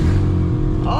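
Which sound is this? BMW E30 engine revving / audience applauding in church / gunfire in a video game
BMW E30 engine revving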